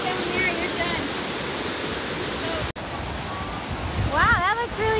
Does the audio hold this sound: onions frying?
no